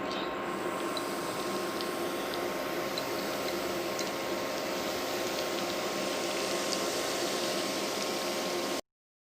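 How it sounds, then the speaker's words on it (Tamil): Egg fingers deep frying in hot oil: a continuous bubbling sizzle with scattered small pops and crackles, steady and close throughout before cutting off abruptly at the end. "இப்போ நம்ம எல்லாத்தையும் ஃப்ரை பண்ணி எடுத்துப்போம்."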